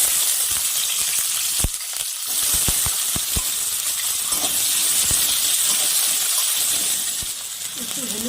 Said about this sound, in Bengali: আমি আলুটাকেও হালকা ভেজে নেব।